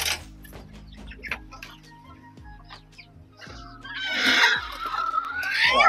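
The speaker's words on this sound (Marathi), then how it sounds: "इथं खुडूक कोंबड्या बसवलेल्या आहेत" Broody native hens clucking in a separate section of a village-style poultry farm, soft intermittent clucks close by, rising to louder, agitated calls in the second half.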